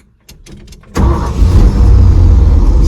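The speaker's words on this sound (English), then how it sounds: "Starts right up." Truck engine fresh from a Holley 4412S carburetor tuneup cranks with a few quick starter bursts, then catches and settles into a loud, close, steady rumbling idle.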